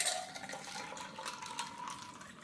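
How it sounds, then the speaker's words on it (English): Peach shikanji, a spiced Indian drink, is poured into a glass over ice cubes, making a soft, steady splashing trickle that runs continuously and quietly without any talk. "Pour the peach shikanji."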